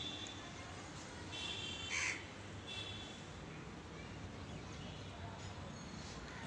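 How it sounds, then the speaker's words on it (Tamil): An evening flock of crows circles overhead, giving a few distant caws above a steady wash of background noise, with one louder call standing out briefly. "எவ்வளவு பறவை பாருங்க, ஒரு கூட்டமாகவே பறந்துக்கிட்டு இருக்கு."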